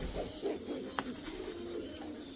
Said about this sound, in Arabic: هذا طير بدرنج مطوق.